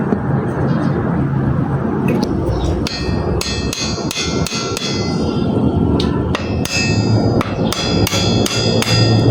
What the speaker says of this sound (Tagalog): so ayan guys, mahina lang ang pukpok